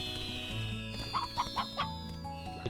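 Painted hens in the video game Slime Rancher clucking in a short series of soft, bright calls over a steady droning game soundtrack, fairly quiet and with no talking.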